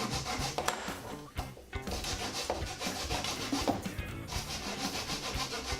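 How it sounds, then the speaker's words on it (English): Hand saw cutting through a wooden dowel rod glued into a pine desk top, a steady back-and-forth rasping that runs continuously and close, with no talking. "Just cut it roughly for now,"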